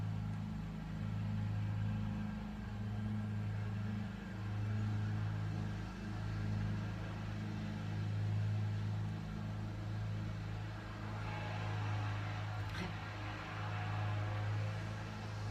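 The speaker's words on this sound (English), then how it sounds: "Somebody's mowing their lawn." A lawn mower runs outside beyond an open window, a steady distant engine drone with slight rises and falls in level throughout, with no talking.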